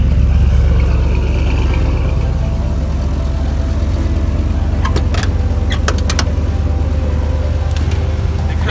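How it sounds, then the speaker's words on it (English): A stalled truck's engine, fixed by replacing a blown fuse, runs on at a steady idle in freezing cold, a loud continuous rumble close by with a few sharp clicks and rattles on top, no talking. "The car starts!"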